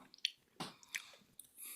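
Quiet, close chewing of a crunchy candy bar, with a few crisp bites and wet, squishy mouth sounds spaced irregularly, and no talking.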